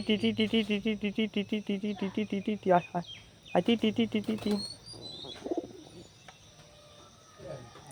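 Pigeons being fed rice coo in a quick, regular run of throaty pulses, followed by scattered wing flaps and softer calls close by.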